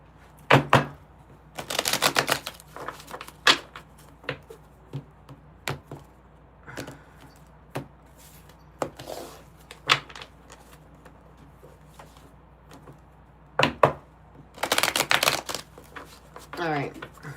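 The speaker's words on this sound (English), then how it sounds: "I'm going to make sure I shuffle this up really good here." Tarot cards shuffled in bursts, a dense riffle near the start and another near the end, with scattered taps and card handling in between; a voice talks intermittently.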